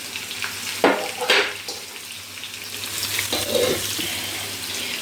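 Food fries in a pan during home cooking, a steady close sizzle with a few clinks and stirring clatters of utensils, and no talk.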